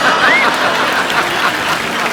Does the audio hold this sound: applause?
yes